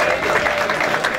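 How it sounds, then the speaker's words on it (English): Brief steady applause from a boxing crowd for both fighters after the Ian Smith v Paulo Mansama bout, a dense even patter for just over a second. "Big round of applause, ladies and gentlemen,"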